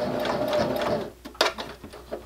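A sewing machine runs a stitched seam across a small fabric wristlet keychain with a close, steady mechanical whir for about a second, then slows into scattered clicks and handling taps.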